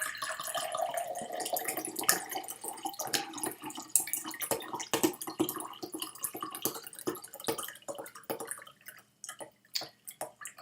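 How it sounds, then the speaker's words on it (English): Water trickles and splashes steadily from a bottle into a glass nearby, a continuous bright pour that slows into drips and small glugs toward the end. "Might as well pour some water too"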